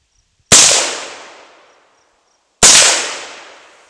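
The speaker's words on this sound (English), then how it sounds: "we couldn't hit with the AK, so we're gonna try with the AR-15" Two sharp, loud AR-15 rifle shots at exploding targets outdoors, each a sudden crack followed by a long echoing decay, spaced about two seconds apart.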